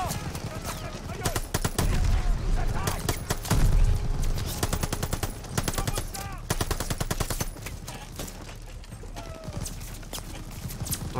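Bursts of machine-gun fire and scattered gunshots crackle through a battle in the video game Call of Duty: Vanguard, with rapid dense volleys, clattering hoof-like sounds and a brief whinny, while a voice talks over the fighting.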